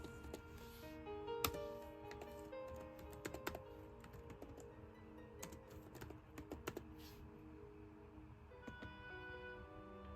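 Keys clatter steadily on a computer keyboard as a website address is typed in, a dense run of quick clicks with a few louder strikes, alone and fairly close.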